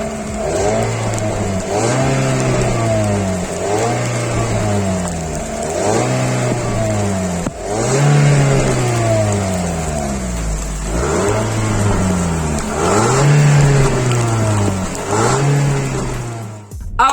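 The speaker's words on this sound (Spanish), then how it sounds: "escuchar rugir esos motores, así que Accent Vision, acompáñanos a rugir" A 2011 Hyundai Accent Vision with a 1.4 L engine revs repeatedly and loudly from close by, each blip climbing and falling in a steady rhythm of about a dozen pulls, with no one talking.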